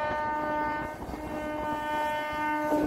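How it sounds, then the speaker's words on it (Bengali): A Howrah–Haldia galloping local train rolls into Santragachi Junction with a steady horn tone over continuous rumbling wheel noise, close and fairly loud throughout. "দাসনগরের পর রামরাজাতলা স্টেশন স্কিপ করে ট্রেন ঢুকছে সাঁতরাগাছি"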